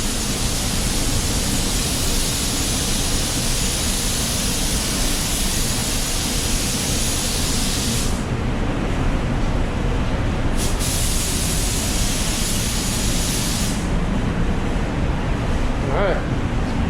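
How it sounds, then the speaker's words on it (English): A spray gun lays a second coat of red tri-coat automotive paint in a steady, loud, continuous hiss that runs unbroken with brief dips in its airy top end. "He's keeping the paint within the area that he's already sprayed."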